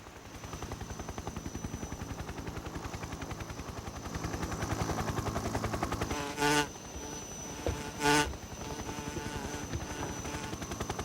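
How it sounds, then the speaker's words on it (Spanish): A swarm of hornets controlled by an enemy in Metal Gear Solid 3 drones steadily throughout, a dense buzzing hum that swells at two points as the insects pass close. "Un tío que maneja las avispas,"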